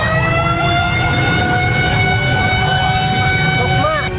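Fire engine sirens wail loudly and steadily, their layered tones holding for the whole stretch amid truck engine rumble at a warehouse fire in Cilincing, North Jakarta.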